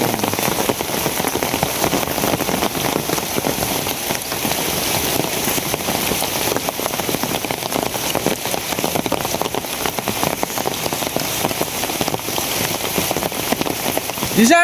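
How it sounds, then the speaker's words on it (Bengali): Heavy monsoon rain pounds down on a village home, a dense, loud, unbroken hiss of drops striking surfaces throughout, with faint voices now and then beneath it. "ধুমছে বৃষ্টি"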